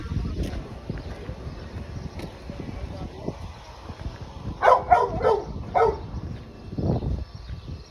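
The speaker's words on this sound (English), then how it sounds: "There's a dog." A dog on Tangier Island barks a few times in a short burst midway through, close by and fairly loud, over outdoor wind noise and intermittent talking nearby.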